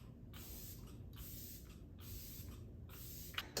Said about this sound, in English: So now we're just gonna move on to the Kat Von D setting spray.